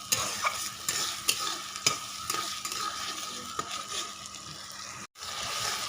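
Spice masala with slit green chillies fries in a pan for a village-style desi chicken curry, with a steady sizzle and repeated scraping stirs, closing in a brief silence followed by more frying.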